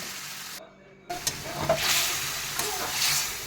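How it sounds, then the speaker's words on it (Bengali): Spinach curry with ginger-cumin paste and dried chillies is stirred in a pan after a brief silent gap, and the stirring brings scraping knocks over a soft, ongoing sizzle close by. "তরকারিটাকে আমি দুই তিন মিনিট আর একটু নেড়ে চেড়ে নেব"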